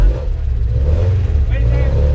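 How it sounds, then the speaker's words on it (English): The engine of a Mazda Miata endurance race car rumbles loudly and steadily at close range, a deep, throbbing idle with slight revving that runs without a break. "Now we gotta start the car."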